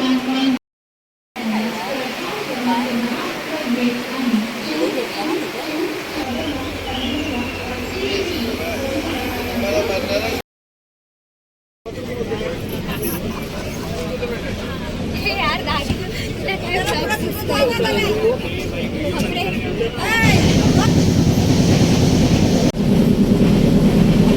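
Train noise at a busy platform on the Mumbai–Ratnagiri route, a rumbling carriage and crowd chatter, with people talking throughout and brief gaps of silence.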